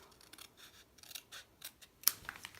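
Scissors cutting papercraft paper along a marked line for a Christmas craft kit: a close, quiet series of crisp snips and paper rasps, irregular in rhythm, with one sharper click near the end.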